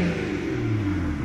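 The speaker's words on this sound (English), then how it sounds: "Very, very nice sounding engine." A 2010 BMW 335i with manual transmission and two-wheel drive, 134K on the clock, its engine running close by in a loud, steady rev with a deep throaty rumble, heard alone for a brief moment.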